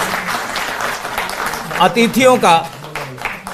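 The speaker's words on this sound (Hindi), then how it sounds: "एक बार जोरदार तालियों से आप हमारे सभी मंचस्थ" A crowd at a Delhi farmers' compensation event applauds the guests on stage, producing a dense patter of clapping that fades as an amplified voice speaks over it.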